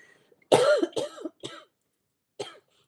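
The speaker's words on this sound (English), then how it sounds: "Oh my gosh, I'm going to cough." A woman coughs several times in a short burst, three quick coughs followed by a pause and one more, close and fairly loud in a quiet room.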